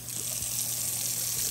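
Spring water runs steadily at a cabin site with wooden railings, a close, constant rushing hiss with no pauses and no voices over it.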